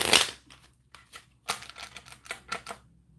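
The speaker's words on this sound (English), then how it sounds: "So let me just shuffle this deck up." A deck of playing cards being shuffled close by, with a sharp riffle burst at the start followed by several shorter crisp flutters and taps after a brief pause.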